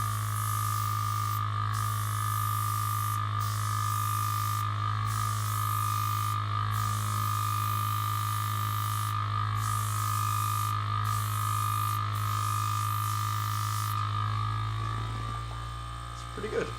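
Inexpensive $35 airbrush spraying paint onto miniatures, a steady close hiss of air over a constant compressor hum, with regular brief pauses in the spray, then a short clatter near the end.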